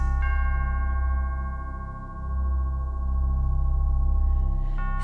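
A large swinging church bell rings out with a long, sustained metallic hum whose overtones linger and swell, loud and near, followed by another strike near the end.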